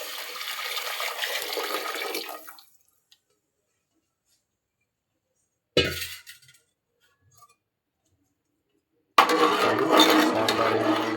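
Drained cooking water is poured into a village-style ridge gourd sambar, giving close splashing, gushing pours in three separate bursts with near silence between them.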